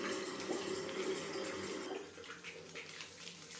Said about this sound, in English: now it's time to wash my face and brush my teeth before I do my skincare